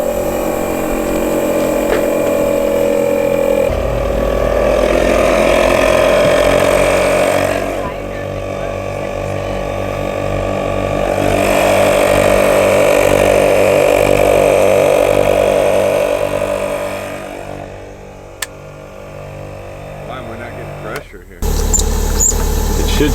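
An onboard air compressor fitted to a Jeep Wrangler runs loud and close, a continuous buzzing motor hum with a steady drone that shifts in pitch as pressure builds, then cuts off near the end.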